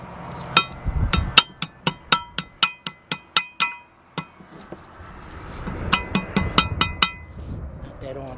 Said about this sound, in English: take the back end of your screwdriver with a little hammer